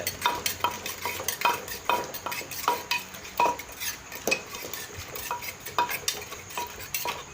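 Papaya salad with fish sauce just added is stirred close up in a series of clattering, scraping strokes and utensil knocks against the dish, repeating irregularly, with no talking.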